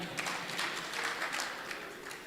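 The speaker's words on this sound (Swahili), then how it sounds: "Tumpigie makofi tena" Faint, steady applause from an audience at an outdoor public participation meeting about a university location, a soft continuous patter of many hands heard from a distance.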